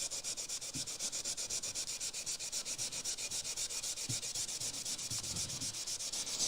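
Steady, rhythmic rubbing as elbow grease is worked into a spot on an old hand plane, an even back-and-forth scrubbing stroke that repeats continuously at close range with no talking.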